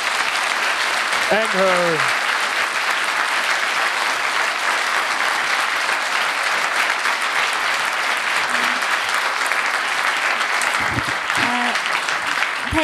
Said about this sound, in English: Give a warm round of applause to Hong Fu